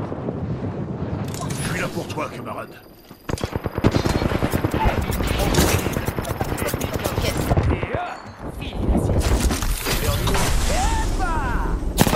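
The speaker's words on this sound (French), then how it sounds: "Je suis sous le feu, camarade." Rapid bursts of automatic gunfire from the Apex Legends shooter game rattle almost continuously, with sharp mechanical clicks and reload sounds mixed in, loud and close, while someone talks over the shooting.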